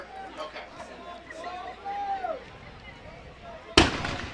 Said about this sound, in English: now they shoot the cannon.